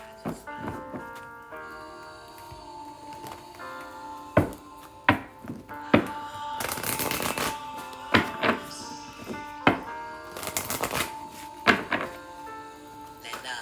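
Tarot cards being shuffled in a few quick papery bursts over a steady musical drone, with a voice speaking softly now and then.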